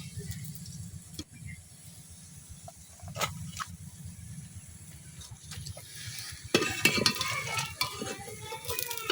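Taro-stem fritters (bora) frying in hot oil in a village kitchen, a steady close sizzle and bubbling running throughout with occasional stirring clatter and scrapes, growing busier and louder near the end.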